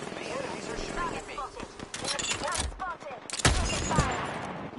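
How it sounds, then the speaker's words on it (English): Gunfire in Apex Legends comes in rapid bursts and fusillades over game sound effects, with a voice talking over part of the action. "The enemies are shooting at me."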